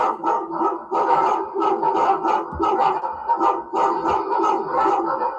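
Several dogs bark loudly and repeatedly in quick overlapping bursts, close by and continuous throughout.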